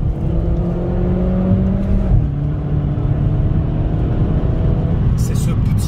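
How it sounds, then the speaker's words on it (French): A car engine runs steadily up close with a low droning hum and a faint small noise coming from the motor, its pitch easing down partway through and continuing evenly. "c'est ce petit son qui vient du moteur"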